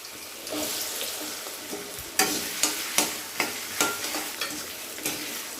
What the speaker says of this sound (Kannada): ಸಿಪ್ಪೆ ತೆಗೆದು ಕಟ್ ಮಾಡ್ಕೊಂಡಂಥ ಆಲೂಗಡ್ಡೆ ಇದನ್ನು ಹಾಕ್ತೀನಿ ಇದನ್ನೀಗ ಫಸ್ಟ್ ಫ್ರೈ ಮಾಡ್ಕೊಳ್ಳಿ